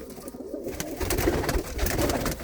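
Pigeons in a breeding loft coo softly and continuously over a dense background murmur of birds, with no voices.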